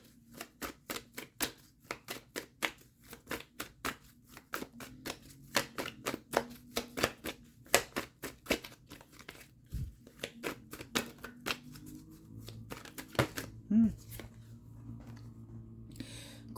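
Tarot cards are shuffled, handled and laid down on a table, giving a quiet series of crisp taps and soft slaps in an uneven rhythm, close up with no talking.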